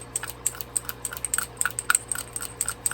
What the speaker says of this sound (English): I take this scissor and I just start cutting like this